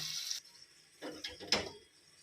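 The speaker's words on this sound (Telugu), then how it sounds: "ఇప్పుడైతే మూత వేస్తున్నాను." A lid goes onto a pot of chicken cooking with gongura (sorrel leaves) in a home kitchen, making two short metallic clatters a moment apart after a brief hiss, close and fairly quiet.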